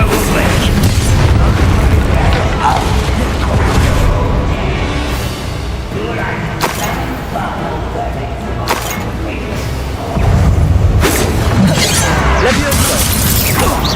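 A Bombarda blasting spell in a Hogwarts Legacy duel sets off heavy booms and crackling bursts in two loud stretches, separated by a quieter spell, with a voice speaking among the effects.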